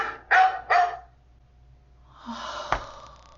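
A dog barks twice in quick succession, sharp and fairly loud, over a home microphone during an online early elementary class, followed by a quieter rustling, snorting noise.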